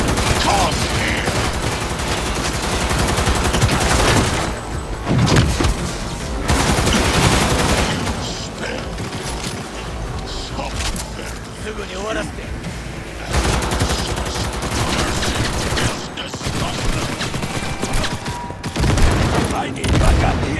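Dense gunfire fills a firefight in Cyberpunk 2077: loud, continuous automatic bursts and rattling shots for about twenty seconds, broken by a few brief lulls, with voices mixed into the din.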